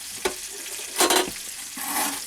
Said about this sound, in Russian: Масло кипит и хвост прыгает.